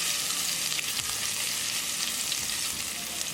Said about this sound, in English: Add ginger, garlic, and green chili. Mix it. Cook until the garlicky flavor is gone.